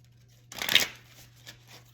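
A deck of tarot cards gets a quick shuffle, a single close, crisp riffle burst lasting about a third of a second, then faint rustling over a low steady hum.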